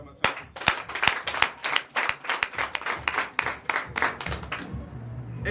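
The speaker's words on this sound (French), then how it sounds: "Donne l'acclamation" A church congregation clapping during a Sunday service in Comè, Benin, a burst of many sharp, uneven hand claps, close and lively, that tapers off near the end as a low voice begins.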